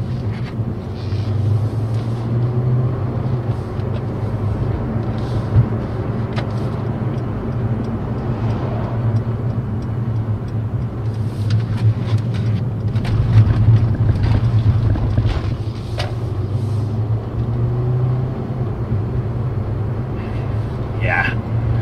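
A Mercedes C63S AMG on a test drive gives a steady, low engine drone with road and wind rumble inside the cabin, heard throughout under continuous conversation.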